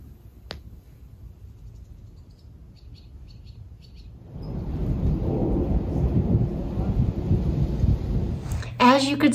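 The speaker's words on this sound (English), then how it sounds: "it has been raining here in Colorado. Like actual rain." Rain falling in Colorado during a thunderstorm, starting as a faint low rumble of thunder and swelling into a loud, steady roar of rain partway through, with a brief bird-like chirp at the end.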